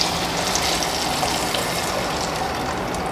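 Tamarind mixture pours steadily into a pan of tempered spices for a sundakkai kuzhambu, a continuous close splashing gush with no talk over it.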